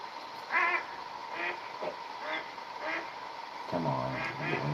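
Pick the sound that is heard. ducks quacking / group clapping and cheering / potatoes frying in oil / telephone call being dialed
ducks quacking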